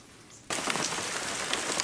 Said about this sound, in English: As you can tell, it's a little rainy here this evening